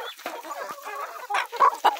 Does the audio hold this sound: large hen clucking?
yes